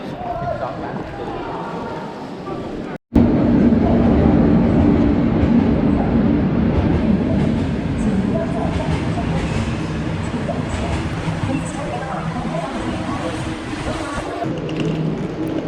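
A steady, loud rumble of an older hard-seat passenger train running on the tracks between Laos and China, continuous clatter and rolling noise throughout after a brief cutout near the start.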